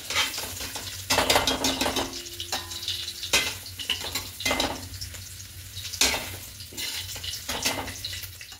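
Paneer frying in hot oil in a pan, a steady sizzle broken by repeated loud bursts of stirring and scraping, close and with no talk.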